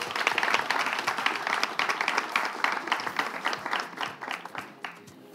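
A crowd applauds at a live French game-show style event, many distinct hand claps in a lively, fairly close burst that gradually thins out over several seconds.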